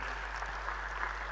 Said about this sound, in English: A big round of applause for Mr. Chhabria.